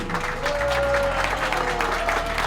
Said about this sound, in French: Un applaudissement pour Kelvin.